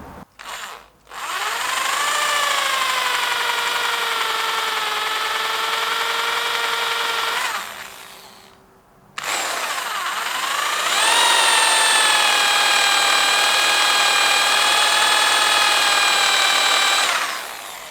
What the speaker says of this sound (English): Drill most of the way through.